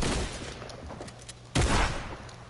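Gunshots in the video game Borderlands, set on Pandora: a few muffled shots early on, then one sharp loud blast near the middle that rings out and fades.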